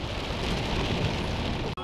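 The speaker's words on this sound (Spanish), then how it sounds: "nos tocó agüita, nunca habíamos venido con agüita" Steady rain falls in the sierra near San Francisco, Tula, Tamaulipas, a dense continuous hiss of drops on surfaces, fairly close and even, ending with a brief cut.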